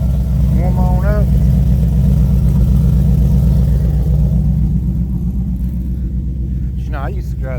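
A truck engine idles after a cold start to warm up, a steady close low rumble with a faint whine, while people talk a little over it.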